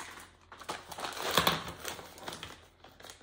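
A plastic bag of mini chocolate chips gets snipped open with scissors in a kitchen while baking peanut butter chocolate chip cookies, giving soft close crinkling with a brief louder burst of rustle and cut.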